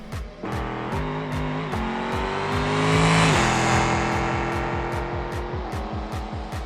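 A default Ibishu 200BX drag car in BeamNG launches and screams down the strip, engine revving hard through rapid upshifts with rising pitch, loud and close, a sharp ticking pattern running through the run.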